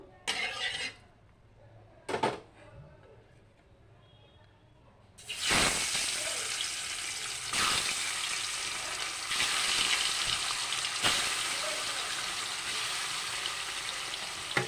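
Fish sizzling as it fries in a hot pan for a Bengali fish curry, a loud steady crackle that starts after a few faint clinks and keeps going with small surges.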